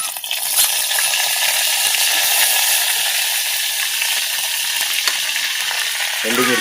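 Curry leaves fry in hot oil for a village-style egg curry, a loud, dense, continuous sizzle and crackle close up with faint spatter pops throughout and no voices.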